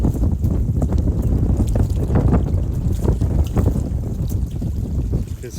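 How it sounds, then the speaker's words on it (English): Wind gusting across a small fishing pond outdoors, buffeting the microphone with a loud, continuous low rumble. Faint splashing or rustling texture sits underneath, and nobody speaks. "I'm sure y'all hearing the wind blowing in the background."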